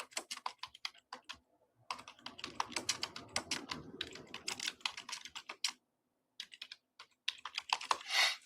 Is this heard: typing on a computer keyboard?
yes